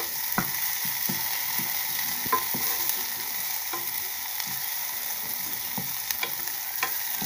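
A pot of palm nut juice mixture for moudjiri, a Congolese vegetable dish, stirred steadily, with spoon scrapes and small clinks over a constant background hiss, no voices.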